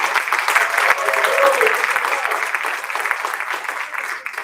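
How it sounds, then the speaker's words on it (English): An audience at a senior storytelling showcase in a cultural center gives a round of applause, a dense, steady clapping from many hands that holds evenly throughout and fades slightly at the end. "So give them another round of applause."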